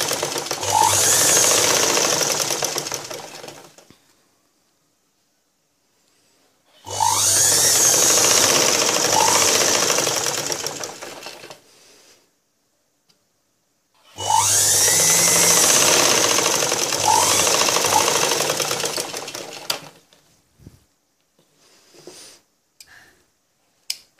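A sewing machine stitches a cross-cut blouse in three separate runs of rapid, mechanical needle chatter, each lasting a few seconds and split by short quiet pauses.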